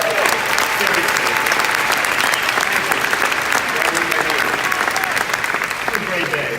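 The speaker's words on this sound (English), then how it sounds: "can you all just give a huge bloody round of applause to Tony and Tara?" A conference audience gives dense, sustained applause for Tony and Tara at an ATD ICE 2018 event, loud and continuous throughout, with cheering voices mixed into the clapping.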